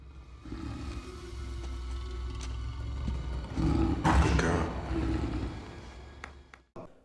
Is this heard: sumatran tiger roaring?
yes